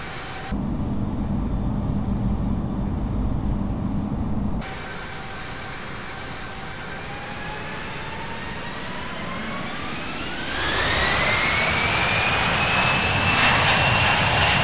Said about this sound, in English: Swiss 676 is taking off runway 32,